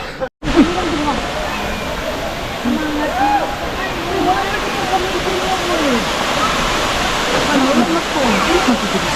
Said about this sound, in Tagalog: Sa Katibawasan Falls.